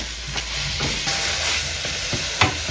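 Onions sizzle and fry in olive oil in a pan for shakshuka, with a steady close hiss and a few soft stirring clicks and scrapes.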